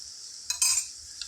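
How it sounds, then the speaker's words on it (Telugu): Ginger garlic paste frying in a pan for an egg curry, a faint steady sizzle with a couple of short scraping stirs and clinks, no voices. "అల్లం వెల్లుల్లి పేస్ట్ పచ్చివాసన పోయేంత వరకు చక్కగా ఫ్రై చేసుకుందాం"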